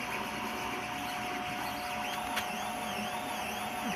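A Kingroon Cube 3D printer runs steadily and close by, its stepper motors whining in rising and falling sweeps over a constant fan hiss, with one brief click partway through.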